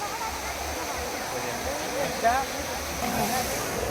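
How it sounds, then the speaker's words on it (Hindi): A high-pressure water fountain in Jamshedpur sprays with a steady rushing hiss, while people talk over it. "और यहाँ पे फाउंटेन का प्रेशर तो बहुत भयानक है।"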